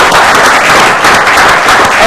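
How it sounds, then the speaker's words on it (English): A studio audience applauds Baltimore Ravens owner Steve Bisciotti, a dense, loud, continuous wash of clapping filling the whole moment without pause. "Another round of applause for him."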